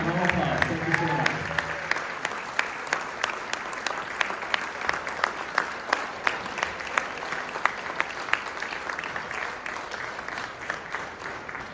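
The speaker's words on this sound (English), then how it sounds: "round of applause" Sustained round of applause from a crowd at a 50th anniversary celebration, many hands clapping steadily for about twelve seconds with a few sharp individual claps standing out and a brief voice at the very start.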